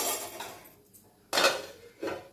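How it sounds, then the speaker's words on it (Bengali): A metal lid is set onto a cooking pot of potato curry, giving two or three close clattering clinks with short gaps between, no voices. "এবার ঢাকাটা দিয়ে দিচ্ছি"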